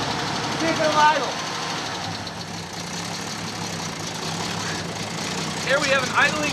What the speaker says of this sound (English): Here we have an idling, clean, green racing machine. Listen to that hot cam.